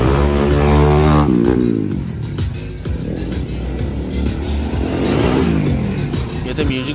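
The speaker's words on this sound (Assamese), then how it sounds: "বাইক ষ্টাৰ্ট হৈ গৈছে দেখুৱাইছোঁ চাই থাকিব" Motorcycle engine of a wall of death stunt show at the Nalbari Raas fair, revving and rising in pitch, loud and close, with cars or other engines and voices mixed in.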